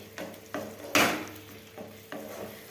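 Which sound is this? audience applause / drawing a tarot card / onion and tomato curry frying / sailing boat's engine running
onion and tomato curry frying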